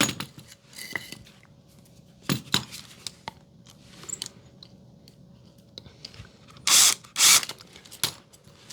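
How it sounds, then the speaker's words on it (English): A drill drives screws through drywall into the bottom plate during a house repair, with short close bursts of motor whine and clicks scattered between quieter handling noises. "I'm going to take a couple screws and put that in place."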